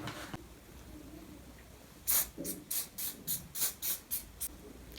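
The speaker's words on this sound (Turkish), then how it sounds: "şimdi bunu direkt spreyleyeceğim" Hair spray sprayed onto strands of hair in short pumps: a run of about eight quick, close hissing bursts in a steady rhythm, with a fainter puff a moment earlier.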